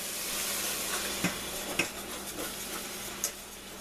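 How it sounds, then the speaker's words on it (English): Milk whisked into a mac and cheese sauce in a pot, making soft continuous stirring swishes with occasional light clinks of the whisk against the pan, close and quiet, with no talking. "Slowly add it in as you whisk."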